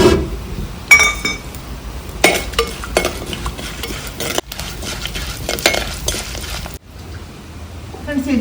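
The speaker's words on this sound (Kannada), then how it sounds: "ಇಷ್ಟು ಹಾಕಿ ಸ್ವಲ್ಪ ಫ್ರೈ ಮಾಡ್ಕೋಬೇಕು" Chana dal and urad dal frying in oil in a village kitchen for papaya palya, with steady sizzling and frequent close clinks and scrapes of a spoon stirring in the pan.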